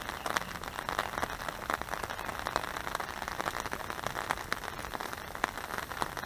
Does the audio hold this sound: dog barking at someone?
no